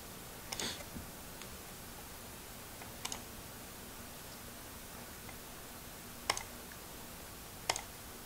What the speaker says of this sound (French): on va cliquer là-dessus.